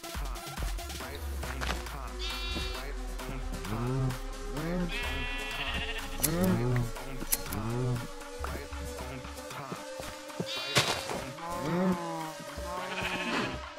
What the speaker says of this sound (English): these sheep are eating this grass really fast